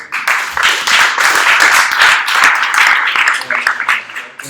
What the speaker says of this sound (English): one more round of applause for Digital Garage for offering us this space